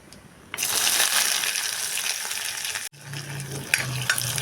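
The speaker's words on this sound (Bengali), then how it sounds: "পেঁয়াজটা তেলের সঙ্গে মিশিয়ে ভালো করে সময় ধরে ভেজে নিতে হবে" After a quiet start, onions hit hot oil after fried nigella seeds and sizzle loudly, a bright crackling hiss that continues with brief stirring clatter and a low hum.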